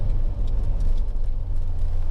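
A BMW E30 M3 cruising on the Nürburgring Nordschleife, its engine giving a steady low droning rumble heard from inside the car, fairly loud and even throughout with no talk.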